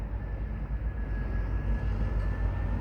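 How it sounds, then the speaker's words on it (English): An Airbus airliner on final approach into London Heathrow, heard near the runway threshold as a steady, continuous low engine roar with a faint high whine holding throughout, no voices present. "I'm sort of slowly but surely catching a few planes coming inbound, and here's another one."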